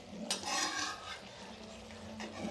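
Masala mixed with yogurt is stirred in a pan, giving a steady scraping and stirring sound with soft utensil clinks against the pan, close up and fairly even, with no talking.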